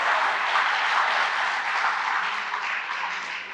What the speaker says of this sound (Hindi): एक बार जोरदार तालियां वी द पीपल और इन सारी संस्थाओं के लिए बजा